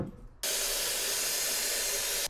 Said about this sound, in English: First, I wash all the vegetables as usual.